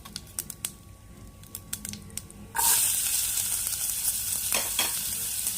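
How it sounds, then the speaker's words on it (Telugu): Chopped onion drops into hot oil with asafoetida while cooking gongura chutney, a sudden loud sizzle bursting in after a few quiet clicks and staying as a continuous close crackle. "ఇప్పుడు ఆనియన్ వేస్తాను"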